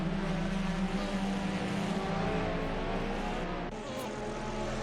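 GTLM race car engines roar continuously in a racing video game at Watkins Glen, a loud sustained droning whine with several cars layered together and a brief dip near the end.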